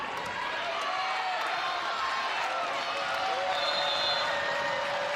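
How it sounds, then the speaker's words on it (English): Nervous cheering from the Stanford home crowd at a college volleyball match in an indoor arena, a broad, sustained roar with scattered shouts and whistles, steady and loud throughout. "a nervous cheer builds up from the Cardinal faithful here at L&N Federal Credit Union Arena"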